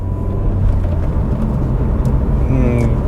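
A Nissan Juke with 109,000 miles and slightly sloppy gears pulls steadily while driving, a continuous low engine drone with road rumble throughout and someone talking over it.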